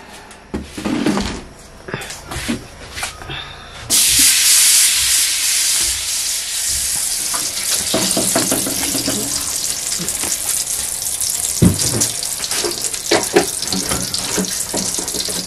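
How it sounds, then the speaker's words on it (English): Egusi melon seeds frying in a hot pot give a loud, steady sizzle that starts suddenly and then holds, with scattered clinks and scrapes of stirring throughout. "Frying the melon is just to give the melon soup a one kind fine sweet taste."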